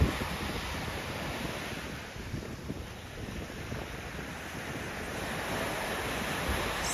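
Waves wash onto the beach at Budva, Montenegro, a steady broad surf roar with wind buffeting the microphone, continuous and moderately loud throughout.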